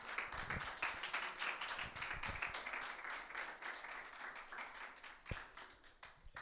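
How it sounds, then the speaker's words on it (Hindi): A church congregation applauds for Jesus Christ during a Hindi-language worship service, a steady wash of many hands clapping together for several seconds, fairly faint and distant, with no voices over it. "यीशु मसीह के लिए तालियां बजाएं कलीसिया।"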